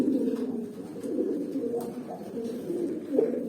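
Pigeon cooing, from a young male of a fancy pigeon line kept in a loft, comes as low soft throaty coos repeating throughout, close by and steady, with some background murmur.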